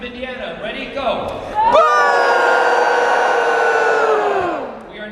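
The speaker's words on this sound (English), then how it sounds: "We're just booing the conservative assholes." A convention panel audience at Emerald City Comic-Con boos loudly in a sustained collective drone, swelling in suddenly after a few spoken words and holding steady for several seconds before trailing off.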